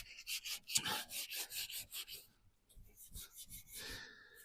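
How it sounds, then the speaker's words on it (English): Hand sanding scrapes across the bodywork of a VW T25 van in quick back-and-forth strokes, close and rhythmic, with a short pause midway before the rubbing resumes. "continuing the rubbing down."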